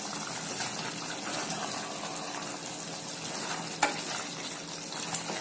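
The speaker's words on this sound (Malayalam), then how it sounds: "ഇനി നമുക്കിതിനെ ജസ്റ്റ് ഒന്ന് ഇളക്കി കൊടുക്കാം." Pepper chicken curry fries in a pan as it is stirred, giving a soft continuous sizzle with a couple of brief utensil knocks near the end; no one speaks.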